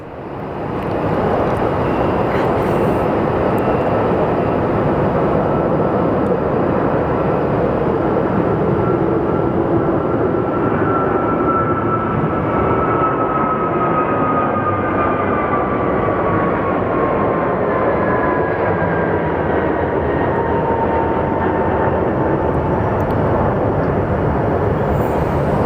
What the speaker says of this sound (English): up next, we do have what appears to be another Airbus.